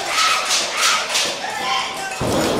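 Wrestling match hits with a metal pizza pan, a run of sharp thuds and slaps over loud, continuous crowd noise, with commentators talking throughout.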